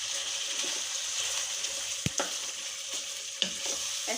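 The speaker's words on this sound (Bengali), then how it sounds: "আর দিব পোস্ত বাটা আর বাদাম একসাথে আর কি কষিয়ে নেব।" Chicken shahi rezala frying in a pan with poppy seed paste and nut paste, a steady, close sizzle with a few sharp stirring clacks, no voices.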